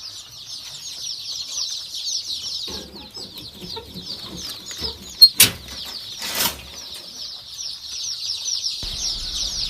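Local chickens cluck steadily on a turkey farm, a dense close chorus of high calls with a few sharp wing-flap bursts midway and no talking.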